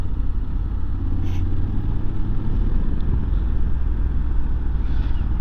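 A Honda scooter riding at speed on a dual carriageway, with a steady engine drone under heavy rushing wind noise throughout and no speech.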